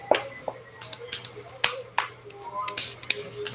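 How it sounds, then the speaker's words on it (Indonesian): Sharp, uneven hand claps ring out one after another, a handful of loud smacks spaced irregularly over a quiet background. "Ayo tepuk-tepuk tangan dulu dengan berbunyi yang lebih keras."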